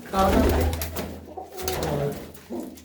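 Pigeons coo in low, throaty bursts close by, a few rounded calls with brief pauses between them.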